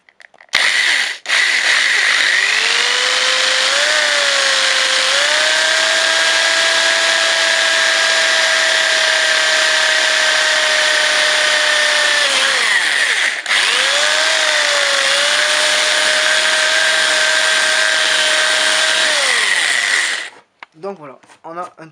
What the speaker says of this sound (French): Donc on va venir percer ici.